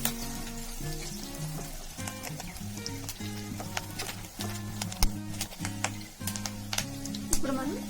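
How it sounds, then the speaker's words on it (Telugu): Curry leaves frying in hot oil in a pan while making chicken majestic, a crackling sizzle with sharp pops running under steady background music and a voice talking. "ఇప్పుడు కరివేపాకు కూడా కొద్దిగా యాడ్ చేసుకోవాలండి. 10 నుంచి 15 సెకండ్స్ వరకు మనం ఫ్రై చేసుకోవాలి."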